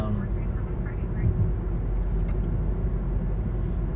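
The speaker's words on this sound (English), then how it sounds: "Let the car go by and assume they're going to go faster." A car on a street in Bakersfield, a continuous low engine and road rumble that stays steady and fairly close throughout, with a voice speaking over it.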